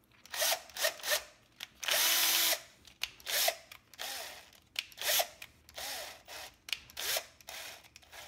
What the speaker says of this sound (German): man kann dann die Schraube in den Akkuschrauber einspannen